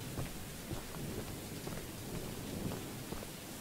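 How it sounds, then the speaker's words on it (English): Heavy rain falls in the Choo Choo Charles video game, a dense, steady downpour hissing loudly and evenly throughout, with faint low rumbles underneath and no voices. "I like how they did the rain effect."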